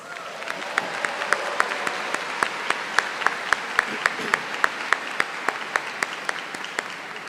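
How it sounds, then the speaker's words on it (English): Audience applause fills a graduation ceremony hall for an electrical and computer engineering commencement, steady sustained clapping from a large crowd with sharp individual claps standing out throughout. "Please let's give them a round of applause"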